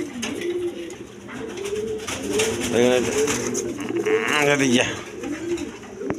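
Pigeons, both males and females, coo in repeated bubbling bursts close by. Someone speaks briefly among the calls.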